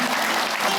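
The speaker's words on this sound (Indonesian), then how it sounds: "Tepuk tangan buat Kang Yonan, alhamdulillah." Brief burst of audience clapping during an Islamic religious talk show, dense and continuous for under a second with no speech.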